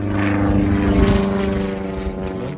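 A small propeller airplane flies close by, its engine a loud, steady droning hum with a beating propeller tone that holds throughout and fades slightly toward the end.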